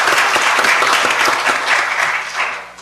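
Dense, loud clapping from an audience at a medical grand rounds talk, sustained throughout and tapering slightly toward the end.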